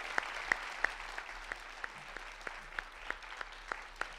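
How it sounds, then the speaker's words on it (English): Thin, fairly quiet applause from an audience honouring a medical school team at a fireside chat, with sparse distinct claps spaced out over a soft background. "please give them a massive round of applause."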